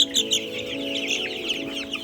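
A Rhode Island Red chicken clucks and chirps repeatedly during weighing. The close calls come in quick bursts over a steady background hum, with no talking.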